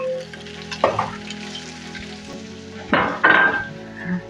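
Ginger and onions fry in a pan with a steady crackling sizzle, close by, broken by a few louder bursts of stirring and utensil scrapes against the pan.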